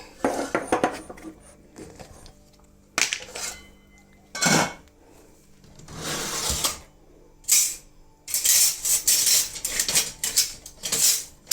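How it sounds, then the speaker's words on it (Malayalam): Mixed dal transferred from a pot into a serving vessel, giving irregular clinks and scrapes of a metal spoon against the pots, with loud bursts separated by quieter gaps. "ഇത് നമുക്ക് പാത്രത്തിലോട്ട് പകർന്നു വയ്ക്കാം"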